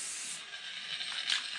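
Aerosol spray can spraying paint onto a plastic car bumper, a steady close hiss that starts abruptly and runs continuously with slight surges, alone without speech.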